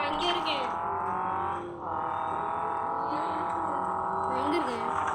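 Racing cars in the Rally Fury driving game, a steady engine drone with tonal revving and brief tire squeals throughout, voices talking over it.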